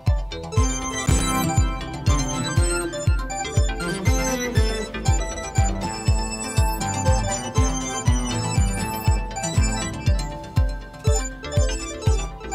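A Moog synthesizer pulses a repeating rhythmic pattern with punchy bass hits and bright, busy tones layered on top, loud and continuous.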